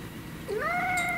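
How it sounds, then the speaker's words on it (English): A cat meows once at the back door on the top step, a single clear rising then sustained meow heard up close against a quiet background. "It's just a cat."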